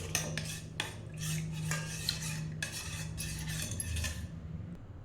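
A spoon stirs a ragi porridge mixture with a pinch of salt in a metal vessel, making close, rhythmic scraping and clinking strokes that repeat for several seconds with no one talking.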